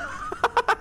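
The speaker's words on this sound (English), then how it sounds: "Oh god, the geese! They're here!" Geese in the video game Yakuza 5 give four quick, rhythmic honks in succession, moderately loud over a faint background.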